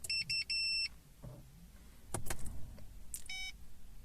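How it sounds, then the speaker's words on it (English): Ignition switched on in a 2016 VW Passat fitted with a Starline i96 immobiliser: a clear run of electronic chimes and beeps, then soft clicks and a short rustle, ending in another quick burst of tonal beeps. "So what you do is you turn on the ignition."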